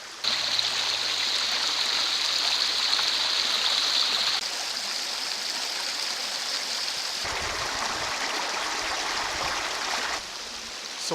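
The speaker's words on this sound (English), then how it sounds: "Headed towards the Cascade River and I can just start to hear it now" Cascade River rushes steadily along the Superior Hiking Trail, a continuous loud wash of flowing water with no pauses, its texture shifting slightly a few times as the vantage changes.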